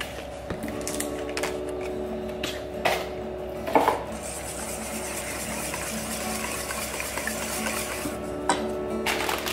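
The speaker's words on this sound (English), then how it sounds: "we are going to add 16 ounces of cottage cheese" Kitchen sounds of preparing a high-protein breakfast dish with cottage cheese and chilies: scattered clanks of a utensil against a pot, soft scraping and stirring, moderately close with a steady low hum beneath.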